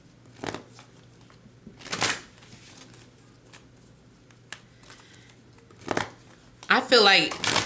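Romance angel cards shuffled in several short papery bursts, a few seconds apart, with a crisp riffle near the end, all close and fairly soft in an indoor room.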